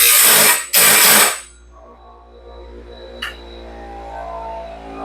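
A grinder works the gullet of a sawmill band blade, giving two loud harsh grinding bursts that break off, then a humming motor winds down with a light metallic clink near the end.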